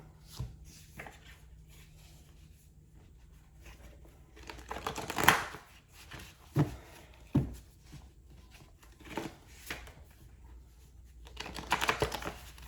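Cards riffle and slap in a few quick bursts, with softer shuffling and tapping between them, close by and quiet.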